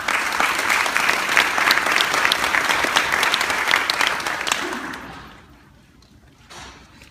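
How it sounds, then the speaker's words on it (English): A crowd at a high school National Honor Society induction ceremony applauds steadily and loudly for several seconds, then the clapping thins out and fades to near silence. "Let us pause and offer a round of applause for the support network"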